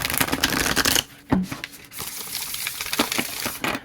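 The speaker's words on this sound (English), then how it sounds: "even riffle shuffling now is really beautiful" A tarot card deck with broken-in cardstock being riffle shuffled up close, a dense fluttering burst of card flicks, a short pause, then lighter taps and riffling as the cards are bridged and squared.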